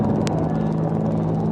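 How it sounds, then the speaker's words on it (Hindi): Three Apache helicopters fly overhead in formation near India Gate during a military flypast, producing a loud, constant rotor thrum with rapid rhythmic blade chop and no voices. "3 अपाचे हेलीकॉप्टर विक्ट्री फॉर्मेशन में"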